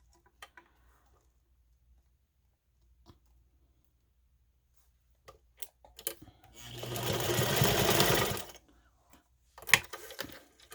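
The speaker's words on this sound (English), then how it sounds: "then we're going to sew down 1/4 of an inch" A sewing machine stitches a pouch clasp onto its connector in one short burst of rapid mechanical whirring of about two seconds, framed by quiet handling clicks and taps.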